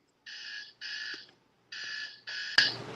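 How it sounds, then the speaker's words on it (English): An alarm clock rings in four short bursts of bright electronic beeping with a pause in the middle, close and clear, followed by a sharp clatter at the end. "She laying there asleep, alarm going on."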